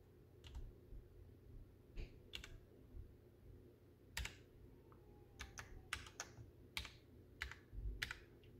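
Key presses on a Ducky One 2 Mini mechanical keyboard, a quiet run of separate clicks and short bursts of typing at an uneven rhythm, close up over a low steady background hum.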